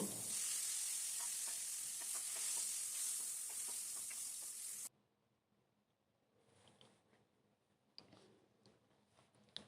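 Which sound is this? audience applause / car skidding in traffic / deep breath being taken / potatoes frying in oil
potatoes frying in oil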